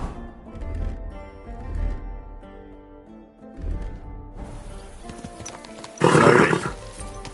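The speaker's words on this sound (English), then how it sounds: "Someone's been pampering this horse." A pampered horse in the medieval video game Kingdom Come snorts, shifts and clops in uneven bursts, ending in a loud, rough breathy blow.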